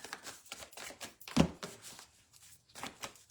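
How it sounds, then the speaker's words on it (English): Tarot cards being shuffled by hand, a quick series of soft riffling and slapping bursts close by, with one sharper knock partway through, fairly quiet and without talking. "we gotta get them a good shuffle going"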